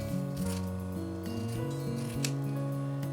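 Scissors snip through a quilted potholder with batting layers in a few quick, faint cuts over a steady, tonal background.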